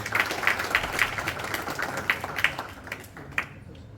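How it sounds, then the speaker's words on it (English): Audience applause at a cricket club presentation evening at the Derby Hindu Temple, fairly faint scattered clapping with a few sharper individual claps standing out, fading toward the end. "So please give a big round of applause for that as well."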